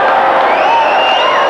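Spectators at the 1995 Men's World Open squash final, with Jansher Khan playing, burst into loud, sustained cheering and whooping that fills a packed arena without pause.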